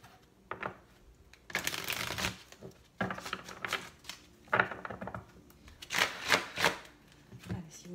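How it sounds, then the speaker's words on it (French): Deck of oracle cards being shuffled by hand in several quick riffling bursts separated by short pauses, close and clear. "Je vais bien brasser le jeu."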